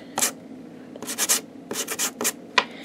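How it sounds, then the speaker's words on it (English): Short gritty scraping strokes as a nail file sands epoxy resin badges, close and dry, coming in quick bursts of two to four rubs with brief pauses and a sharp final stroke. "So we're going to sand these down real quick."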